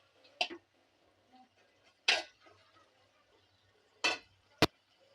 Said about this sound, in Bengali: এবার খুব ভালো করে নেড়ে চেড়ে পেঁয়াজগুলোকে ব্রাউন বা বাদামি করতে হবে